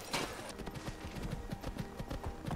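Horse hooves clip-clop at a steady trot in a video game, a quick run of close, even beats over a soft background wash.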